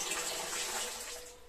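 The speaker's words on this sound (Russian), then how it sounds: "Сейчас я солью воду." Water drained from a well-water filter housing is poured out in a steady, rushing stream into a toilet bowl, close by and continuous.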